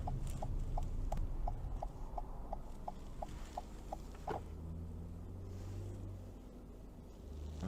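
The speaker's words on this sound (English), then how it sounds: "That blinker sound is pretty soothing." Turn signal of a 2022 Toyota Corolla Cross LE clicking in a steady, even rhythm, about a dozen crisp ticks, heard inside a quiet cabin over low road hum before the ticking stops.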